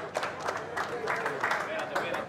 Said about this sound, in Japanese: 選手たちから拍手が起こりました